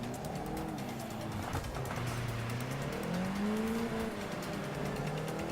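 Race car engine droning and rising in pitch in Forza Motorsport 6 as the car aquaplanes and slides on a wet track, with a continuous loud roar and faint tire noise throughout.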